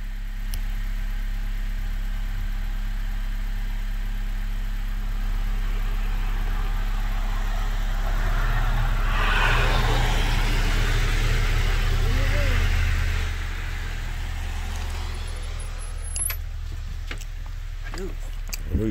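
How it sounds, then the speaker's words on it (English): A car engine warms up, idling steadily for a long stretch on a damp December day, a low continuous hum with a slight rise in the middle, and a voice speaks quietly over it. "Car warming up."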